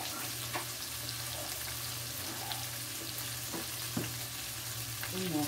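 Ingredients for rice, with black pepper and peppers nearby, sautéing in a pan, giving a steady close sizzle with a few scraping stirs and a soft clink near the end.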